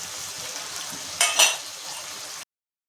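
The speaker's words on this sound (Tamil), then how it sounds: "இப்போ வெங்காயம் வதங்கியாச்சு" Onions sautéing in a pan for raw jackfruit curry make a soft, steady sizzle, with two quick utensil scrapes in the middle before the sound cuts off.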